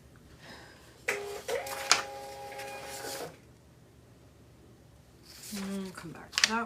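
A small desktop printer feeding and printing labels while packing shop orders, two bursts of whirring with a steady tone, close, and a person talking between them.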